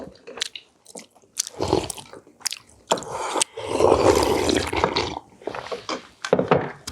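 Chewing during a Korean family meal of kimchi, oyster and seaweed soup and side dishes, with close, wet bites and crunches in short bursts while family members talk intermittently.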